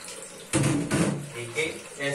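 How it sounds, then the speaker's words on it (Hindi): Green chickpeas being rinsed in water in a home kitchen, with running and splashing water starting in sudden bursts and continuing steadily at close range. "कुछ चने रख लेते हैं पुलाव के लिए और कुछ चने धो लेते हैं।"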